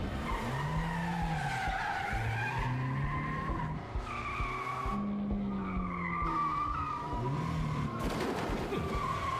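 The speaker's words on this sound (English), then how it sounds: "Car chase sequences, also expensive to film." Tires squeal repeatedly in sliding, rising-and-falling skids during a car chase through a parking structure in the game Quantum Break, with engine roar and scattered gunfire underneath.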